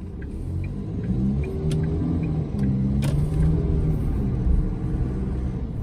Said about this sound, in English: you would have heard my foot hit the accelerator, and it just takes a little bit to get going